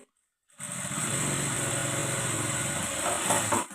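A sewing machine stitches a blouse with a steady, close mechanical whir that starts after a brief silence and continues without pause.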